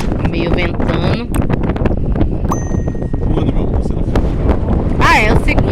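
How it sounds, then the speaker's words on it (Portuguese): Gusty wind buffets the microphone aboard a boat at night, a steady rushing noise under people talking, with a brief bright metallic ding partway through. "Agora tá ventando até demais."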